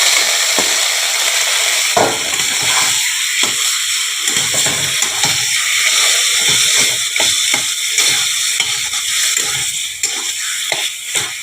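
Taro greens dropped into a hot frying pan with a mashed hilsa fish head, a steady loud sizzle with scraping and stirring clatter running throughout, no voices.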